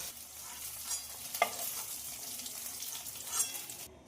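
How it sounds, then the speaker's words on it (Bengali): Paneer pieces fry in oil in a pan as they are turned, a soft continuous sizzle with a sharp click of a utensil partway through and faint stirring sounds, close and quiet. "পনিরগুলো ভাজার জন্য উল্টে দেবো"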